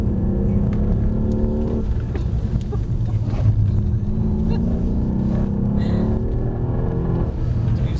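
Mercedes-AMG car driving on a wet, slippery track, a loud continuous engine drone with shifting pitch from start to finish, the engine note slowly climbing and falling.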